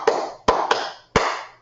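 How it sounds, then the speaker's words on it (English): Classroom students clap their hands in unison, four sharp group claps with short pauses between, each ringing briefly in the room, close and fairly loud. "So the students clap when they hear that."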